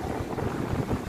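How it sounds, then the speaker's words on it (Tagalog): Strong typhoon wind roars steadily against the microphone on the coast at El Nido, Palawan, a dense low rumbling buffet with no voices. "So, pansin nyo, medyo malakas pa rin yung hangin."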